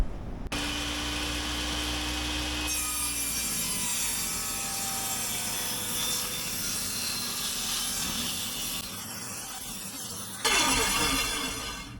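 Power saw cutting wooden strips for holding down greenhouse roof plastic, a loud continuous whine with shifting pitch as the blade works through the wood, close and alone.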